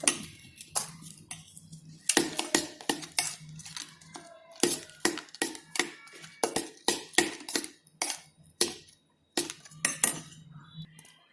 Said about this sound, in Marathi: घरी बनवलं आहे ना बटरस्कॉचचं ते पण मिक्स करते आता